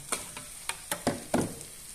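Rohu fish roe fries in a wok while a spatula stirs it, giving a run of sharp scraping clicks and soft bursts of sizzle over a quiet background.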